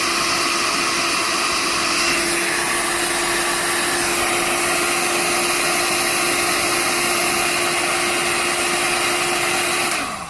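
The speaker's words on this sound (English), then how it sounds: "So this is my heat gun. You heat this up, keep the seal underneath." Heat gun warming epoxy on a mouthpiece screw hole, a loud, steady fan whine and airflow hiss with a constant tone that cuts off at the end.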